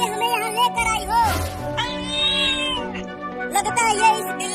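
Cartoon kitten, found hurt on a road after being struck by a car, gives a few high, wavering meows in short bursts, close and clear, with voices talking between the cries.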